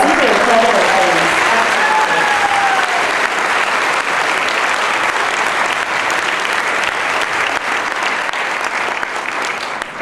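Audience applause for a retiring police officer, a loud, continuous wash of clapping from a large crowd holding steady throughout, with a brief whistle early on.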